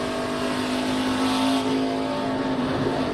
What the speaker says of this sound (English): You can hear him even working the throttle.